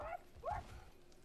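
Dog in the video game God of War giving a short yelp followed by a second, louder whining bark, faint and close, with quiet game sound underneath.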